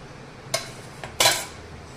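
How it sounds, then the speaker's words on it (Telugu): A spoon clinks sharply against a bowl two or three times while yogurt is added to chicken 65 being prepared, close and clear with no talking. "ఈ స్పూన్తో 2 స్పూన్లు పెరుగు వేసినాం."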